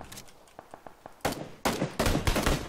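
Gunfire in the video game PUBG: a run of sharp, evenly spaced shots, then louder, denser bursts of automatic fire that crowd the second half, loud and close.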